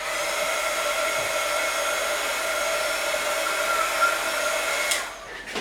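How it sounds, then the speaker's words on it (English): A heat tool blows steadily to heat-set freshly stamped ink on vellum for scrapbooking, a loud continuous whirring hum close by that shuts off near the end. "what I'm going to do is just heat set these real quick"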